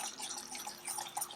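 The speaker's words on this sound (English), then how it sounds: "Look at this, it's just bubbling like crazy." Caramel bubbles hard in a cooking pot, a faint, fizzy stream of tiny pops and crackles that runs steadily for a brief moment with no one talking.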